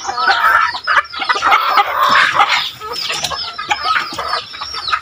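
Several chickens cluck and squawk busily and close by, a dense overlapping chorus of short calls that continues without pause.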